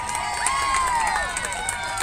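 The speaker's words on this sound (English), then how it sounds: "And the crowd goes wild" Crowd cheering and whooping at a softball game after a deep hit for a double, with children shouting among the fans; a steady, lively roar that holds throughout.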